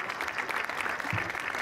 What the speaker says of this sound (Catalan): A tots els que heu fet la marxa, un fortíssim aplaudiment!